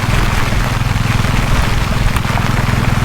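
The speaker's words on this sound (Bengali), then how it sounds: "দেখো বন্ধু, এত বৃষ্টি হচ্ছে" Heavy rain falls on a hilltop road in the Koraput hills while a motorcycle rides through it. A loud, constant hiss of rain sits over a low, throbbing engine rumble.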